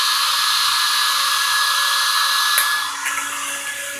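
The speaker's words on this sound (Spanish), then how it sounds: "Ponen el secador así, lo prenden." A hair dryer blows continuously at close range with a loud, steady whooshing roar and a faint motor whine, which shifts and softens slightly near the end.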